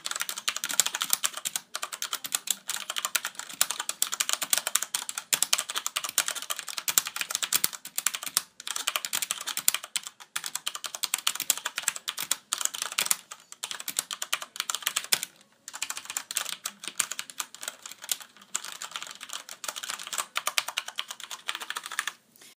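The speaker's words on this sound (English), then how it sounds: "If you guys want to hear what the keyboard sounds like" Close, continuous typing on a Corsair Vengeance K70 mechanical keyboard with Cherry MX Red switches, rapid soft keystrokes broken by a few brief pauses, no voice over it.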